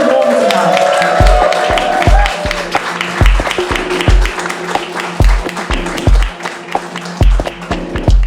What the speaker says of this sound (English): let's give Mo a huge round of applause